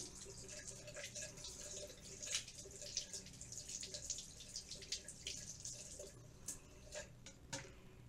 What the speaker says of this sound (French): Bien sûr, je rince bien.